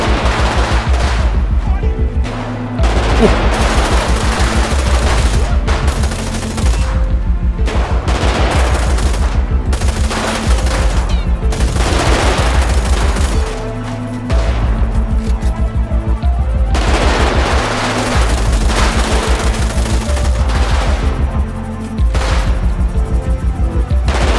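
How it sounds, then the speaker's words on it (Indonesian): Rapid automatic gunfire in the GTA 5 zombie survival mode, with bursts of machine-gun fire and shots repeating almost without pause across the whole stretch, loud and close over a steady low game-music drone. "Masih harus tembakan sebelah sana."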